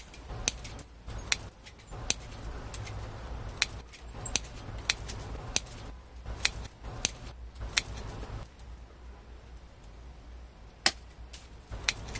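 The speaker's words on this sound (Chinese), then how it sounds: "先剪一个大的方向，像这样剪出一个整体的基本轮廓。" Pruning shears snip bonsai branches while roughing out the tree's basic outline. Sharp, close clicks and snips come at an irregular pace, each cut brief and crisp against a quiet room.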